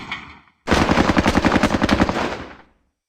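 MG42 machine gun firing in the video game Squad, one long rapid burst of tightly spaced loud shots after a brief pause, trailing off into silence.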